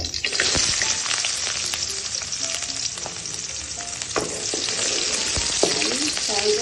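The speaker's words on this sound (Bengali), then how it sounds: "চুলাতে তেল দিলাম, তারপর পেঁয়াজ," Onions hit hot oil in a pan, giving a continuous, close, bright sizzle and crackle with occasional spatters and a few stirring scrapes throughout.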